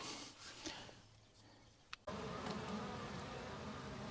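Honey bees buzz around a beehive in May, a dense, steady hum that swells suddenly halfway through and continues close and loud.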